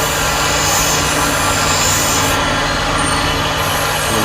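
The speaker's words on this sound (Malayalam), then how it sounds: "എന്നിട്ട് പതുക്കെ ഗ്രൈൻഡ് ചെയ്തെടുക്കാം." A small grinder motor runs steadily while shaping a watch glass with water, a loud, unbroken whirring and hissing grind that holds constant throughout.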